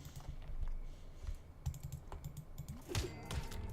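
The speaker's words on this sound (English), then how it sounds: "It's just me muting and unmuting my microphone." Muting and unmuting a microphone produces a series of sharp, close clicks at irregular intervals, some in quick pairs, over quiet background noise with no talk.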